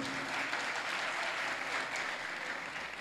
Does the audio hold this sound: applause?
yes